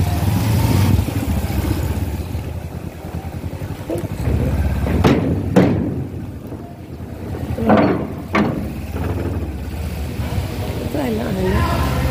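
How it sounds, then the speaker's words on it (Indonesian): Vehicle engines rumble close by as vehicles drive onto a ferry, with heavy wind buffeting the microphone. A few sharp clanks cut through, and voices are faintly audible. "Di sini kita sudah diperbolehkan masuk untuk parkir kendaraan di atas kapal."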